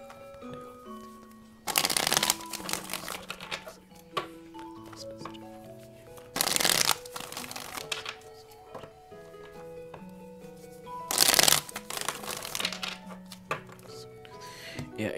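Tarot cards shuffled close up in three short, loud riffling bursts separated by quiet gaps, with soft music playing underneath.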